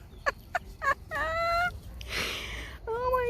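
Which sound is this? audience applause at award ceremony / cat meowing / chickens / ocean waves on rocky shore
chickens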